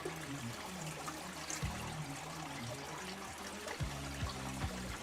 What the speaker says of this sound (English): Putting water up in that shit.